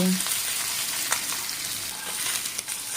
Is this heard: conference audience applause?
no